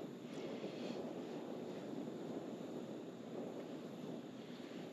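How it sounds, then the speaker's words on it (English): Wind rushes over open water at a bass fishing tournament, a steady, broadband roar and buffeting against the microphone with no voices. "It's windy."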